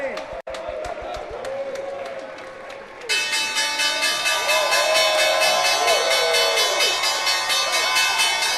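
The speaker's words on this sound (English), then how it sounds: "The team from Mountain is set to do the closing bell." The closing bell rings on a stock exchange floor, a loud sustained metallic clanging that starts partway through and runs on steadily, joined by applause from the crowd and a voice speaking over it.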